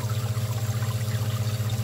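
Water circulates steadily through a bottle in a homemade bottle washer, a continuous rushing, trickling flow over a low pump-like hum with no pauses.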